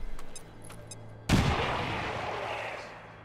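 Grenade blast in XCOM 2, a single sudden loud boom after a few quiet seconds, followed by a long decaying rumble and debris wash.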